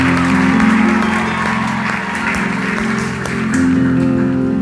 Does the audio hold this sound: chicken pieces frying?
no